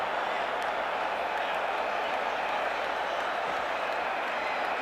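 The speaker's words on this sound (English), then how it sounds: "And the crowd oohs and ahs over that a little bit" A baseball crowd at a 1986 NLCS playoff game between the Mets and Astros in Houston lets out a sustained, broad ooh and murmur after a high foul drive into the upper deck, a steady roar filling the stadium without pause.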